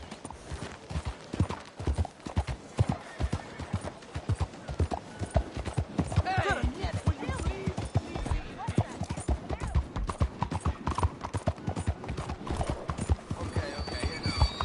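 Horse hooves clip-clopping steadily in a PS4 video game, a continuous rhythmic patter of footfalls with an occasional whinny, while a voice talks over them.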